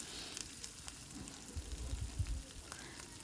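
Rava appe batter in hot oil in an appe pan gives a soft, faint, crackling sizzle with small irregular pops that grow a little busier midway.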